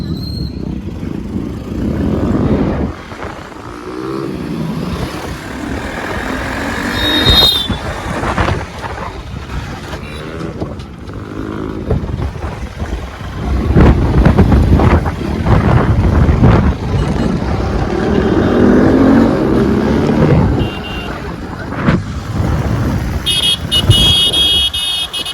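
A vehicle drives along a road, with continuous engine and road rumble, wind buffeting and occasional horn-like tones rising and falling over about 25 seconds, close and fairly loud.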